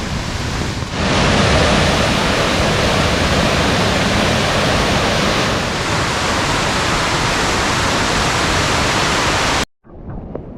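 Heavy rain pours steadily outdoors with water runoff rushing nearby on a muddy, foggy trail, a loud continuous hiss that cuts out abruptly near the end.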